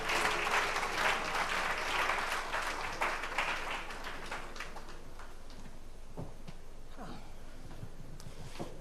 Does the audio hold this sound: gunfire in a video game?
no